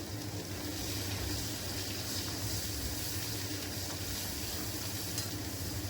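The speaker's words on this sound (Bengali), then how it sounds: "দিয়ে দিলাম গোটা জিরে এরপর কেটে রাখা পেঁয়াজ কুচি এর মধ্যে দিয়ে দিলাম" Chopped onion and whole cumin seeds fry in hot oil, giving a steady, fairly soft hiss and crackle with faint stirring underneath and no voices.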